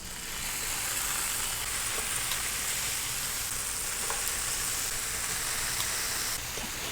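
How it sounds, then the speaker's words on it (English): Bacon and eggs fry on a hot, oiled electric griddle with a steady, dense sizzle that holds loud and even throughout, with no voices. "now it's time to place the bacon on there and then the eggs"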